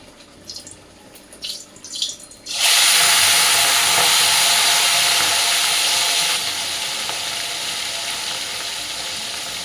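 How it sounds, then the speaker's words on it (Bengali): Fish dropped into hot frying oil: a few faint clinks, then a sudden loud hissing sizzle that holds steady and eases only slightly, close up and without talk. "এখন এই যে মাছটাকে ফ্রাই করব"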